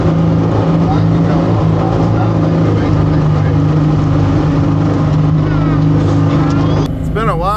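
A small motorboat engine drones loud and steady while running out through Tutka Bay Lagoon, Alaska, the hum constant and close with voices talking over it.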